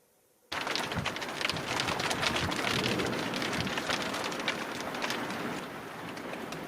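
Steady, dense monsoon rain pours down after a brief quiet start, a continuous hiss of drops hitting surfaces, close and fairly loud throughout.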